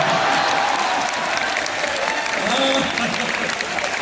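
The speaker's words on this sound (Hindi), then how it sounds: "जोरदार तालियां" An audience applauds at a university poetry recital, a sustained, even wash of clapping that holds steady with voices faintly mixed in.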